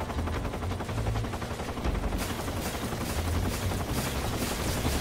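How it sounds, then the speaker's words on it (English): Helicopter firing rockets amid gunfire in the video game Metal Gear Solid 3, a dense continuous barrage of rapid shots and blasts over a steady rotor-like rumble, moderately loud throughout with no pause. "I assume that's a helicopter firing rockets at me as well."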